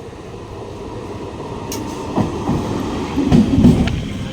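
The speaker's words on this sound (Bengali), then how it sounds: "ট্রেন ছেড়ে দিয়েছে three four seven nine Lakshmikantapur Sealdah local" Lakshmikantapur–Sealdah local train pulling away, heard from inside the carriage as a low rolling rumble that builds, with wheel clatter and brief metallic squeals toward the end, no talk.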